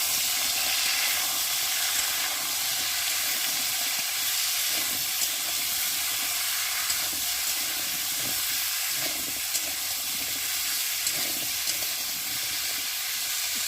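Vegetables with small soybean chunks fry in a pan, giving a loud, steady hiss and sizzle with faint crackles throughout and no voices.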